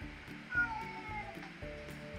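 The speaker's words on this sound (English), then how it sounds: "There's Boris, little kitty cat. Is he crying?" A kitty cat in a house-renovation video game meows plaintively in a repeated, crying pattern over a steady, quiet game background.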